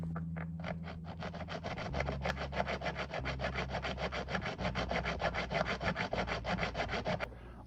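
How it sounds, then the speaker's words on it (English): Round and semi-round files rasping steadily across the nut slots of a 1973 Fender Mustang bass, a close, even back-and-forth stroking rhythm of about forty strokes with a low hum underneath. "I don't have specific bass nut files, so I just use a variety of round and semi-round files."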